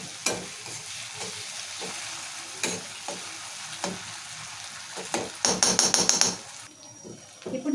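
Washed chicken pieces go into a tomato curry base frying in a pan, giving a soft constant sizzle broken by scattered clinks and scrapes of stirring, with a brief burst of sharper clatter near the end.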